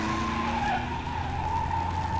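A car driving fast with a sustained tire skid, a loud, steady screeching squeal over engine rumble, close by and with no talking.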